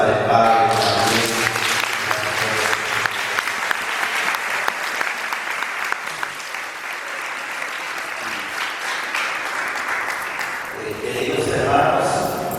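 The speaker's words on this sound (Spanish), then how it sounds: "fuertes aplausos para el Padre también" Sustained applause from a church congregation for a parish priest, dense and steady for several seconds with cheers and voices mixed in, swelling again near the end.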